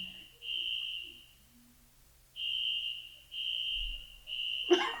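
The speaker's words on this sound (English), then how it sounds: "Not the fire alarm." A fire alarm sounds in repeated long, shrill electronic beeps, loud and fairly close, with brief pauses between the tones and a sharp knock near the end.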